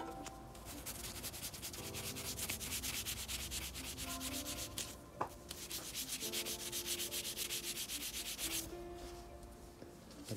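Steady dry rubbing of wood dust over a crack in a turned fusion bowl of lignum vitae and snakewood, a continuous close scratchy friction that rises and falls in strokes, with no talk.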